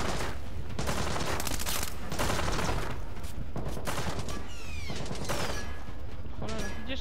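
Dense automatic gunfire from the video game Splinter Cell Blacklist rattles in loud, closely packed bursts, nearly continuous with brief pauses and ricochet-like whines between volleys.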